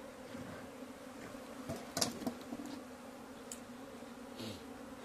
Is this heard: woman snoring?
no